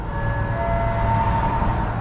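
A KCIC high-speed train runs along the track near Bandung with a steady, even rumble and a faint thin whine, heard continuously from inside with no voices.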